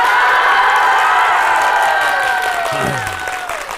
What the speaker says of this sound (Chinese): 来，鼓掌鼓掌